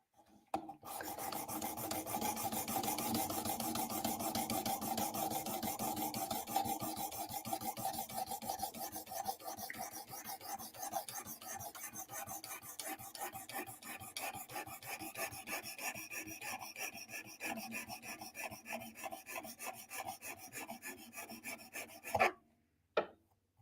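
A blade being sharpened on a 600 grit stone: steady, close rasping strokes rubbing back and forth for over twenty seconds, ending with a couple of sharp knocks as it stops.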